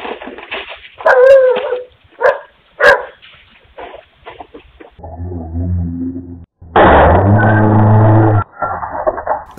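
A homeowner's dog barks and yips in short bursts at a thief, loud and close, with a few sharp barks, a stretch of lower rumbling noise, and a final burst of loud barking.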